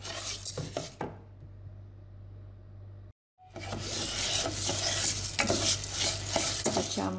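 Rice stirred in a pot while toasting for a traditional Milanese risotto, a steady scraping and sizzling that fills the clip, broken by a short quieter stretch and a brief silent gap before the stirring resumes louder.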